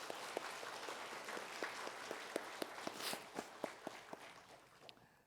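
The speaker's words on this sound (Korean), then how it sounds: "우리 찬양대에게 큰 박수로 한번 격려하겠습니다" A church congregation gives the choir a modest round of applause, scattered individual claps ringing out over a soft, steady wash of clapping that stays fairly faint and distant before tapering off.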